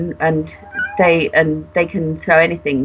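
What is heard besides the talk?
cat meowing in the background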